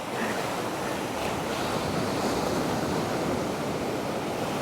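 Loud, continuous roar of surf breaking on Nai Thon Beach, Phuket, Thailand, mixed with gusty wind buffeting the microphone.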